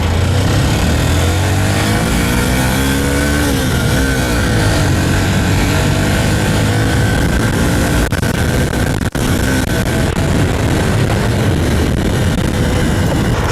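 A Honda CB125F motorcycle engine drones steadily and loudly while the bike is ridden, with a continuous mid-pitched hum and wind noise throughout and no talking.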